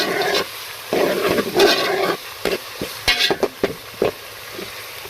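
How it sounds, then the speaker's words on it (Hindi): Garlic, ginger and green chili paste fries with chicken in a pan, a loud sizzle interrupted by repeated scraping stirs and clacks of the spoon against the pan, with no voices. "लहसुन अदरक के पेस्ट को हमने अच्छे से भून लिया।"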